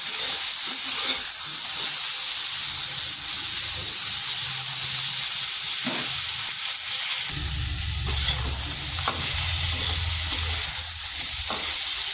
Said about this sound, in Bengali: আলু পটল ভাজা হয়ে গেছে